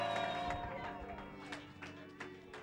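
A church congregation claps and shouts in celebration, with sharp clap bursts landing irregularly through a busy wash of voices and sustained musical tones.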